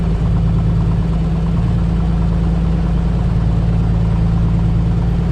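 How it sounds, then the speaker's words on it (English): A steady low aircraft engine drone warming up in Microsoft Flight Simulator, a constant rumbling hum running evenly throughout with no other sounds. "You can actually hear and feel that engine warming up."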